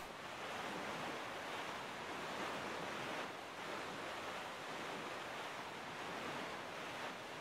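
Ocean waves in the video game The Legend of Zelda: The Wind Waker HD roll in as a steady, loud wash of surf and wind that continues the whole time without a break.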